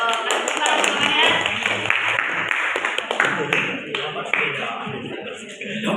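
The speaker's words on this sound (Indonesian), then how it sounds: "Tepuk tangan semuanya" A class in a fruit carving lesson claps hands together, with uneven bursts of clapping and taps heard alongside voices talking.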